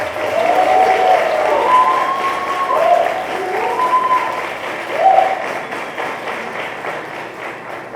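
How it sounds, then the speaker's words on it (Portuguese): An audience applauds at the awards ceremony of a Brazilian debate championship final in Rio de Janeiro, steady sustained clapping filling the hall, with a voice briefly heard over it. "esses recebem a salva de palmas da plateia"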